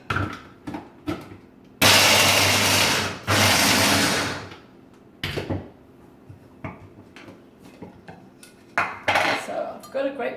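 A kitchen appliance chops a batch of macadamia nuts in loud bursts, with two long harsh runs near the start and shorter pulses and clatter after.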